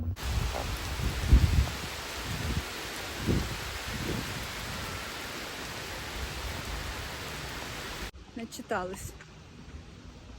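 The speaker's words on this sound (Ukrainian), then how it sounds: "дощ такий, не літній, вересневий" Steady September rain falling outdoors, a dense even hiss filling the background while a person walks and talks over it, ending abruptly.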